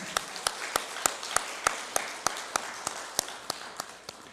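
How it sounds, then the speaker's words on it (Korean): A church congregation claps during a Sunday worship service, heard as a steady, rhythmic run of sharp hand claps at even intervals against a soft room background. "우리 어르신들 위해서 한번 힘차게 박수 한번 하시겠습니다"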